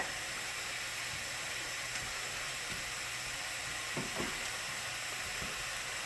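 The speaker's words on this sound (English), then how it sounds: "give this another quick stir" Rotel tomatoes stirred into a hot pan while dip cooks, giving a steady low sizzle and hiss throughout with a few soft utensil scrapes near the end and no voices.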